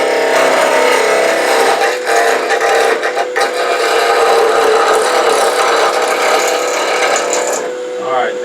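A spindle of wood spins on a lathe while a skew chisel cuts it, making a continuous loud, rough scraping and chattering with a mechanical whir throughout.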